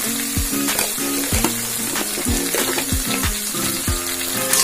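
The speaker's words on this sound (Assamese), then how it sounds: "ধুনীয়াকৈ মছলাখিনি ফ্ৰাই কৰি আছোঁ মই" Masala spices fry in a pan with loud, close sizzling and regular scraping strokes of a spoon stirring, all with no voices.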